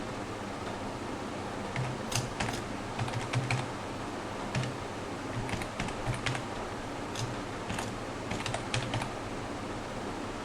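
Rapid, irregular keystrokes on a computer keyboard while writing HTML code for a style attribute, steady close clicking over a faint fan hum, with no talking.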